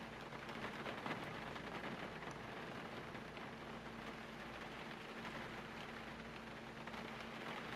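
Steady rain falls in the Gold Rush mining game, a continuous dense hiss with a faint low hum beneath it, even and unbroken throughout without any talking.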